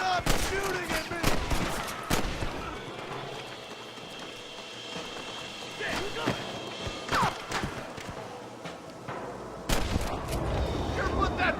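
Gunfire from the Xbox 360 game Red Dead Redemption: sharp, separate shots crack out irregularly over a quieter background, and voices can be heard between the shots.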